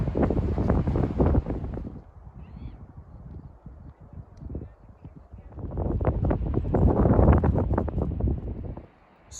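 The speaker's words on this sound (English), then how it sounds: "It's a little windy" Wind gusts outdoors near Bandera Volcano, buffeting the microphone with loud rumbling bursts that drop to a calmer lull midway before swelling strongly again and cutting off near the end.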